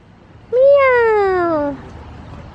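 A cat gives a single clear meow, about a second long and close by, with a falling pitch, set against quiet background noise.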